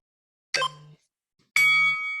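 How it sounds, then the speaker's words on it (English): Two bright bell dings during a home HIIT workout, each a sharp struck tone with a lingering ring, the second one sustaining longer; no talking alongside. "Love my bells."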